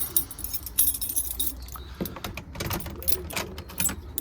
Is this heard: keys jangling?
yes